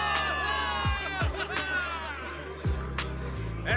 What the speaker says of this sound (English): Give it up for yourselves, soldiers! Cheer for victory!